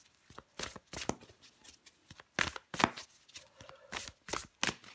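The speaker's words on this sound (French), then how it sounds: "je prends encore une carte pour les Sagittaires" Tarot cards riffle and slide as a deck is shuffled and a card drawn, a quick series of soft papery flicks and taps close by, with no speech.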